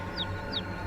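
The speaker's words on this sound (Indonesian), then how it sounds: "suara anak ayam" Two short, high peeping calls from young chickens, close and clear over a low background hum, with no talking.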